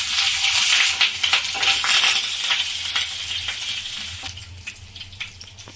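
Curry leaves crackle and sizzle in hot oil while making vada pav, an intense close-up spatter that is loudest at first, then gradually settles into a softer, steady frying hiss, with no voices.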